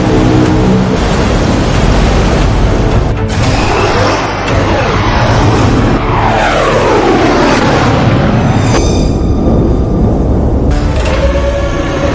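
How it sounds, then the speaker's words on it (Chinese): A formation of fighter jets roars overhead, a loud, continuous engine rumble with sweeping whooshes that rise and fall as the aircraft pass, then thin out near the end. "这是我们的战斗机，这是我大夏的战机编队"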